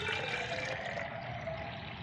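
Plain water poured into strained homemade organic plant fertilizer to dilute it, a steady continuous splashing pour running the whole time at close range with no voices.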